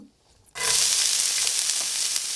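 Raw mango pieces hit hot oil with turmeric for a sweet mango pickle, bursting into a loud, steady sizzle after a brief quiet moment, then frying continuously up close with no talking.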